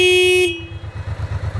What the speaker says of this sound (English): Here's the horn.